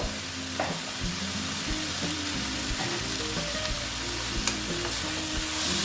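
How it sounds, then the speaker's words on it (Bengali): Chopped banana flower with green chilli and salt sautéing in a pan: a dense, continuous sizzle with repeated rhythmic spatula scrapes and stirs, close and steady for several seconds. "দিয়ে আবার আমি আস্তে আস্তে এটাকে কষিয়ে নেব"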